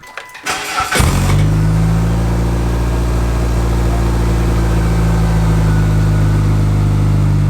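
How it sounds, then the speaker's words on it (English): A Mitsubishi Galant fitted with a newly welded-in Eclipse exhaust cranks briefly, then catches and settles into a loud, steady, deep idle that carries on alone and close up for the rest of the clip. "About to do the official first startup. Hear what it sounds like."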